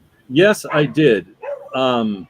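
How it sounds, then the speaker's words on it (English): Neighbors' dogs bark in a few loud, close bursts with whiny, yipping tones, spread across a couple of seconds while a person briefly speaks. "Sorry about the dogs."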